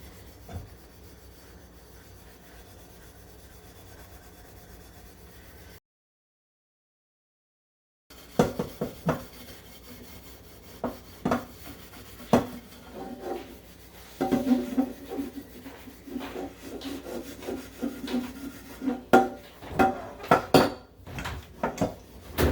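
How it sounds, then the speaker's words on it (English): A cooking pot is scrubbed hard with a Brillo pad, faint at first and then a close, irregular run of rasping rubs and scraping strokes after a brief silence, with no talk. "Sometimes a little hard scrub with a Brillo pad goes a long way."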